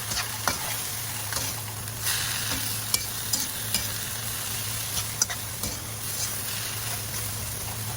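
Sliced cabbage stir-frying in a pan for a budget cabbage pie: a continuous close sizzle and hiss with scattered light clinks of a utensil stirring against the pan, no voices.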